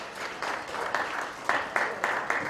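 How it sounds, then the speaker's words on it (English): A crowd applauding at moderate volume, the clapping building a little toward the end, slightly distant in a large room, with no voices over it. "Give them another big round of applause."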